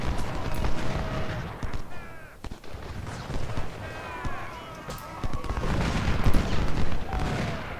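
Musket volleys crackle across a Civil War battlefield in a strategy video game, repeated bursts of gunfire near and far mixed with shouting voices and battle noise.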